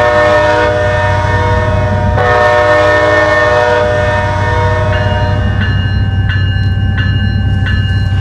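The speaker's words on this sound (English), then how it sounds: "As the train departed" A Norfolk Southern train rumbles steadily nearby while its horn sounds in long sustained blasts, followed by a few shorter honks as it departs.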